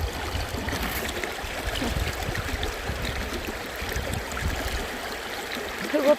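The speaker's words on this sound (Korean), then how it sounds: "물소리가 굉장히" A stream rushes near a waterfall on a spring outing, a steady, fairly loud broadband wash of flowing water continuing throughout with no pauses.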